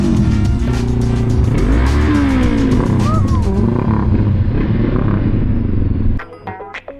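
A Rusi motorcycle rides past on a road near a port, loud and close, engine noise sweeping up and down in pitch before cutting off abruptly near the end.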